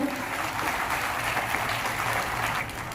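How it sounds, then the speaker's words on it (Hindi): An audience at the 5th Bihar Student Parliament applauds as guests are welcomed one by one. Brisk, continuous clapping runs steadily for three seconds at a fairly loud, even level. "कृपया तालियां बजती रहनी चाहिए।"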